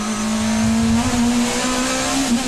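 A BMW race car engine at full throttle on a racing circuit holds a loud, steady high-pitched drone with a slight waver, heard up close and continuous.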